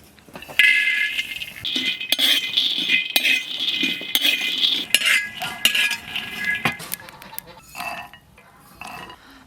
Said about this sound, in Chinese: 先把花生米上锅炒一下